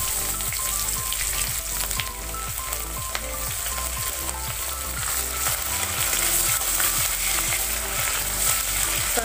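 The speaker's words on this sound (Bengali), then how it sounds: "এবার আমি ফোড়নে দিলাম পেঁয়াজ কুচি" Chopped onion drops into hot oil with whole garam masala spices and a bay leaf and fries with a steady, crackling sizzle, close up and uninterrupted.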